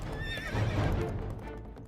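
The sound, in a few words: horse galloping away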